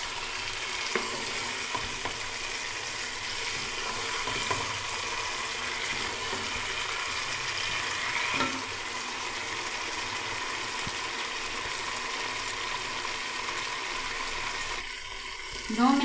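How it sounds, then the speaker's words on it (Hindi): Okra chicken masala sizzles and fries in a pan while being stirred, a loud steady crackle lasting throughout with occasional scraping clicks of the spoon. "अब इसको थोड़ी देर फ्राई कर लेंगे।"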